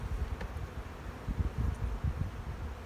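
Bees in the bottom box of a spring beehive give a low, steady buzzing hum with brief swells, fairly faint and close, with no talking.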